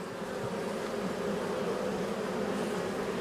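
Honeybees drone in a dense, steady buzz at an open hive during a pre-winter inspection and dusting, loud and close, with no voices.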